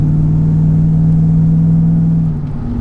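Supercharged Mercedes-Benz E55 AMG W210 V8 with a Kleemann 55-K2 supercharger and a misfire fault, heard from inside as it pulls hard under acceleration, a loud steady drone and whine that eases off near the end.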